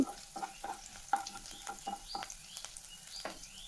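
Chopped ginger and chili stirred and fried in a pan, a soft low sizzle broken by irregular scraping strokes of a spatula, close but quiet, with no talking.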